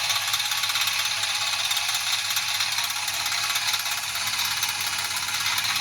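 A lathe motor runs with the tumbler gear and clutch engaged, giving a steady, close mechanical whir with a fine rattling, gear-driven texture that holds constant from start to finish, with no talking.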